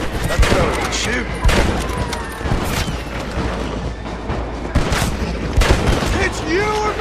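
Dense gunfire from a Western shootout in Red Dead Redemption, volleys of rifle and pistol shots cracking in rapid bursts with booming impacts, layered over game music and effects, with voices speaking intermittently.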